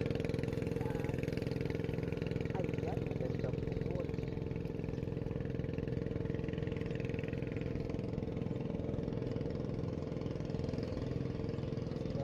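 A boat engine drones steadily throughout, low and continuous like an idling or cruising engine, with faint voices mixed in beneath the hum.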